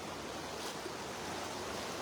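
Floodwater rushes steadily past a village near Vientiane, Laos, as a dense, continuous roar of flowing water that stays loud and even throughout, with no voices.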